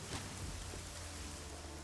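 Steady rain hiss in the video game Deus Ex: Human Revolution, a dense, even downpour heard alone throughout.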